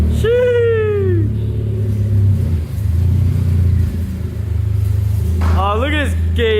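An Acura RSX with a PLM header and Skunk2 Megapower RR 3-inch exhaust revs sharply twice, once at the start and once near the end, with a rumbling idle between. People chat nearby throughout.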